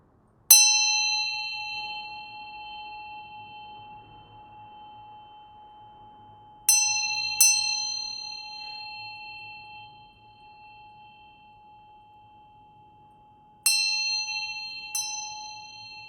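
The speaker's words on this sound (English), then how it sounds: "I'm going to ring this bell to bring in some, to kind of switch over the vibes of the tarot" A small bell rung for a tarot reading sounds in sharp, clear strikes: one alone, then a quick pair, then another close pair, each tone ringing out and fading slowly into near silence, with no voices.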